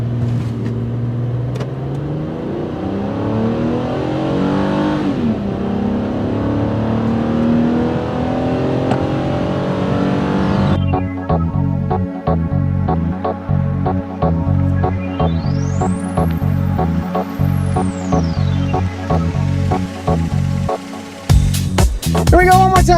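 A 2013 Mazda CX-9 accelerates hard on a 0-60 mph run, its engine note climbing through gear changes in a steady rising growl, loud and close from inside the cabin, with occasional voices.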